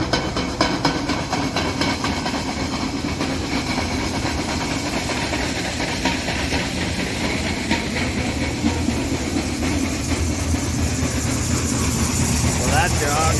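A grain bin bucket elevator leg starts up and runs on a farm, a steady loud mechanical rumble and clatter with a broad, continuous drone that builds slightly toward the end, with a voice talking over it.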